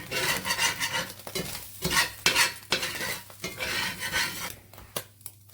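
Repeated scraping strokes of a metal spatula across a cast iron skillet, rough and close, over a soft background sizzle of frying deer hash.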